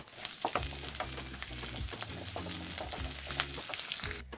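Onion and snake gourd sautéing in a pan, a soft, steady sizzle under regular clinking and scraping strokes of a spoon stirring the pan, fairly quiet and close.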